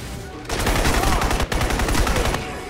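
Rapid bursts of gunfire ring out while shooting enemies in an alien-themed video game, dense automatic fire with a brief break midway, loud and close.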